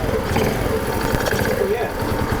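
A Chinese 110cc engine fitted to a Honda C90 motorcycle runs steadily at a quiet, even idle, with a low continuous rumble throughout and no talking over it.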